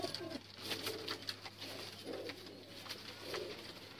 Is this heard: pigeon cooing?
yes